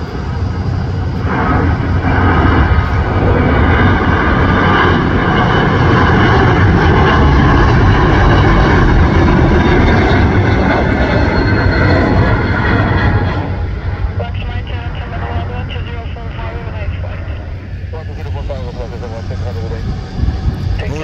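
A loud, sustained roar of jet engines fills the air, rising and holding as an Airbus A321neo airliner powers up for takeoff at Guarulhos Airport, with voices faintly underneath.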